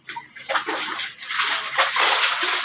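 Floodwater bailed from a flooded shop with a bucket: repeated loud splashes and sloshing close by, water poured and thrown in bursts with a continuous wash between them.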